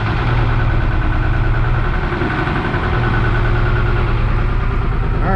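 The diesel engine of a 1975 Chevy stepside pickup runs at a steady, loud, rough idle with a constant low rumble and rattle, with no voice over it.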